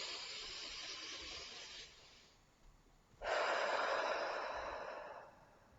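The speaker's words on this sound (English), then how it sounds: "Deep breath." A person takes a deep breath: a quiet, airy breathing sound trails off into a brief pause, followed by a fuller, longer rush of breath that slowly fades, close and alone.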